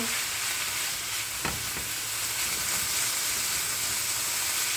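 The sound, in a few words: shaved chicken frying in a skillet on high heat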